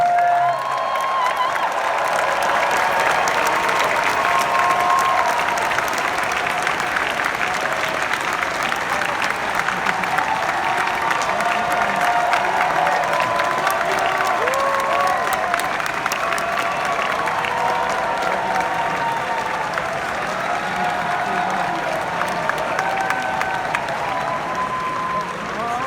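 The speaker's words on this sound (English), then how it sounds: "I want you to give a big round of applause to the good folks from TRON Ares" A packed Hall H crowd at San Diego Comic-Con 2025 applauds the TRON: Ares panel with loud, sustained clapping and scattered cheers for nearly half a minute, with crowd voices mixed into the roar.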